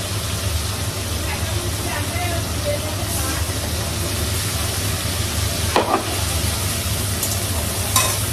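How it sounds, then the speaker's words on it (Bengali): Spice paste frying in oil in a pan, a steady close sizzle with occasional scraping stirs throughout. "এবার মশলাটা ভাজা হয়ে গেছে"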